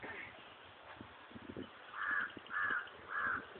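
Crows squabbling with a dog, three loud harsh caws in quick succession after a stretch of faint scuffling and quiet background voices.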